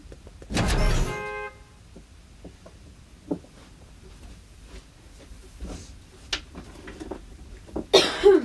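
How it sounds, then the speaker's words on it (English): A single loud, harsh cough from someone with a cold bursts out near the start, followed by quiet room noise with a few faint clicks and small shuffling sounds. "I've also got a bit of a cold and a bit of a cough"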